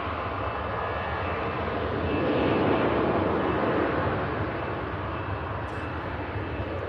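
An EasyJet airliner taxis out toward a flight to Tenerife, its jet engines giving a steady, broad roar at moderate distance that swells slightly midway before easing, with no voices over it.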